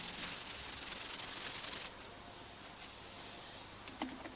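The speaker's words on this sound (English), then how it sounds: "I'm using 60 grit sandpaper, so it comes off pretty quickly with 60 grit." Hand sanding with 60 grit sandpaper on a Peugeot 206 rally car body: a steady, loud, close scratchy rasp for about two seconds, then quieter, scattered short rubbing strokes.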